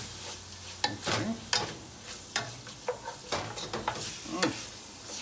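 Food frying in a pan, a steady sizzle with several sharp clacks and scrapes of stirring spread through, close by and without talk.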